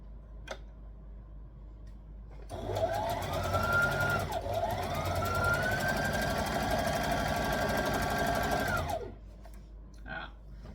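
Home sewing machine stitching a curve on a tulip tee, a steady mechanical whir with a fast running hum, stopping briefly midway and then running on slowly until it halts, with quiet room sounds before and after.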